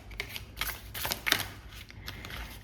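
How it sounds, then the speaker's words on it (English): A deck of oracle cards is shuffled by hand, producing soft irregular riffling and flicking bursts at close range, fairly quiet, with no talking. "I need to be more careful with my shuffling as well now"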